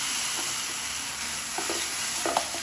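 Fenugreek mixed with water stirred in a hot pan, a steady sizzle broken by a few soft scraping strokes near the end.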